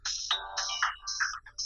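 A phone ringtone plays a bright, chirpy electronic melody of short rising and falling notes, clear and close, with no talking over it.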